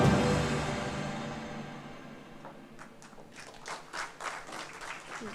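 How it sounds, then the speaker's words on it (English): An audience at a government solar-scheme event claps in applause that starts loud and dense, fades gradually, then returns as a few scattered, sharper claps. "a huge round of applause to all the states"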